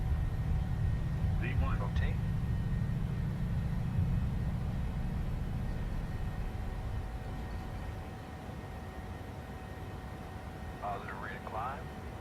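A PMDG 737-800 in Microsoft Flight Simulator rolls down the runway on its takeoff run with a steady, heavy engine roar that eases slightly toward the end. Brief faint voices cut in near the start and the end.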